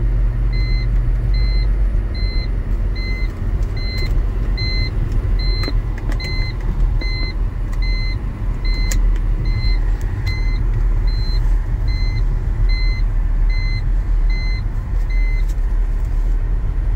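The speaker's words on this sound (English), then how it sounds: "seatbelt is beeping" Repeating seatbelt warning chime in a 2007 BMW X3 with 132,000 miles, a steady even beep sounding about every half second over a continuous low road and engine rumble inside the all-wheel-drive cabin.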